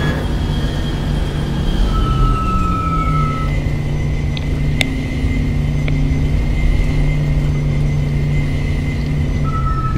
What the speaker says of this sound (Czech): Vysoké otáčky motoru, jak nafťák 1500.